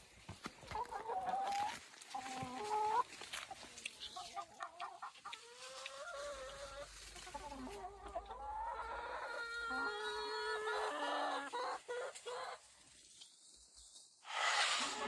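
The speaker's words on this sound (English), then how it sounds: "And here comes the chickens." A backyard flock of chickens clucks and squawks nearby in an outdoor coop, a busy run of overlapping calls and chatter that swells toward the end, with no talking.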